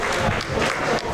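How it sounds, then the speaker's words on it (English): Audience applause for both fighters after a combat sports bout, a brief, moderately loud burst of crowd clapping. "Ladies and gentlemen, please a big round of applause for both competitors there"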